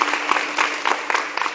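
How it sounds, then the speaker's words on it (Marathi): Audience clapping at a Marathi kirtan by ashram students, a short burst of steady, moderately loud applause from a crowd with no talking. "एकदा जोरदार टाळ्या होते."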